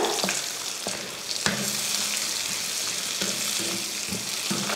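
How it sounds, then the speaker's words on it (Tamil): Tamarind and four dry red chillies fry in an oiled pan, with a loud continuous sizzle and repeated stirring scrapes of a spatula throughout, close by. "கொஞ்சமாக புளி போட்டதுக்கப்புறம் ஒரு 4 வரமிளகாய் சேர்த்துக்கிறேன்"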